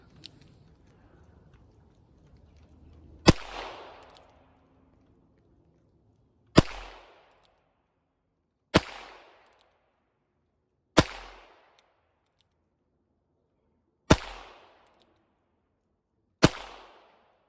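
Six sharp gunshots from a Heritage Rough Rider revolver, spaced a couple of seconds apart outdoors, each a crisp crack with a short decaying tail, after a moment of faint background noise.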